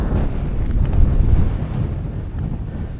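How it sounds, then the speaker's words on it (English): Cold wind blows across a wintry hilltop summit, roaring steadily and loudly into the microphone as low buffeting rumble, with no voices. "Ooh, back into that cold wind again."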